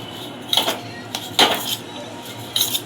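A spoon clinks against a bowl three times while grated coconut is mixed with Malvani masala, leaving sharp, close metallic taps with quiet gaps between them.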